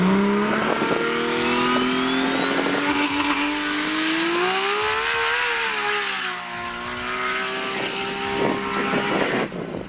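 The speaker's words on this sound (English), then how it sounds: "Rob's Jun 2 was the first car out in the morning doing a half pass to make sure the car was all good" A 2000hp-class Nissan GT-R drag car accelerates hard down a runway, a loud engine climbing through the revs with a rising whine, then easing off near the end.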